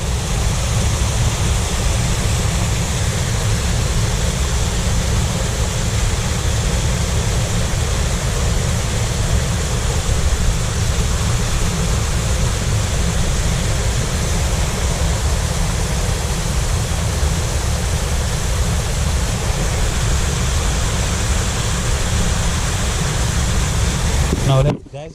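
Waterfall on a hiking trail in St. Lucia, a steady, loud, unbroken roar of falling water close by that fills the whole stretch and cuts off abruptly at the end.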